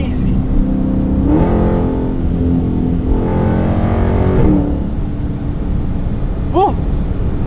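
A Dodge Challenger SRT 392 Scat Pack revs loudly from up close, its engine rising and falling in a few throaty surges, with a voice talking faintly beneath the rumble.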